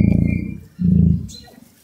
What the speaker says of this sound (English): It's an emu.